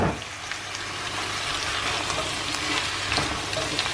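Steady crackling sizzle of chopped potatoes frying in a pot, continuous and close, with faint scattered pops and no talking.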